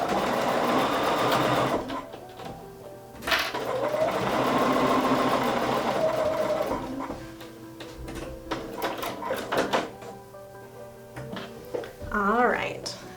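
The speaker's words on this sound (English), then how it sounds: "I'm going to slip it in and stitch right against that batting line" A sewing machine stitches a sampler quilt block against the batting line in close, whirring bursts with pauses, while a person talks over and between the runs.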